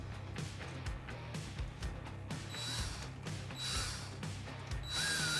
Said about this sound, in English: Tighten this one back down as well.